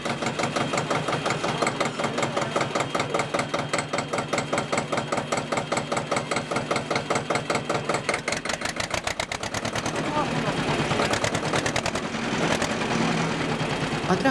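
Veteran agricultural tractors at an outdoor vintage machinery show start up and run with a loud, steady, rhythmic thumping beat that grows busier and denser toward the end as more engines join in.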